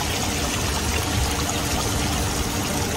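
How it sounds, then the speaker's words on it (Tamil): Water falls and pours in a steady, dense rush close by, filling the clip with continuous broadband noise, heard in an old souk shopping street in Salmiya, Kuwait. "வாவ், பாருங்க எப்படி தண்ணி விழுகுதுன்னு."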